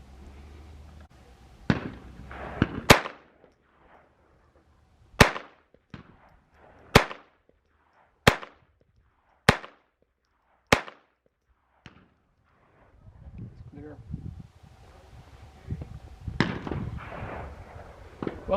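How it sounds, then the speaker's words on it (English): A Jennings J22 .22 pistol fires at an outdoor shooting range: seven or eight sharp, loud single shots spaced a second or so apart, followed by quieter shuffling and handling noise. "the J22 is working pretty good. Probably put about 50 rounds through it today"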